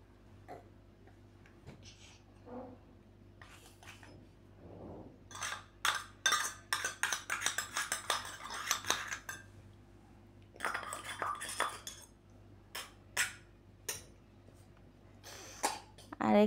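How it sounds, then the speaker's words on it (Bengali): Rice and lentils stir-fried with turmeric and ginger in a pot for khichuri, a spatula scraping and clinking against the metal in bursts, with quiet speech in between. "তো এখন ভালো করে কষাই নেব,"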